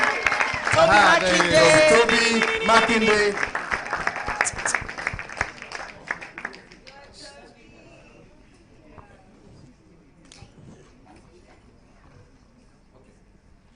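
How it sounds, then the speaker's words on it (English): Audience applause and cheering greet a man joining the stage at a Nigerian film event, loud and dense at first and then thinning out into scattered claps as a voice speaks over it. "Clap for him, clap for him."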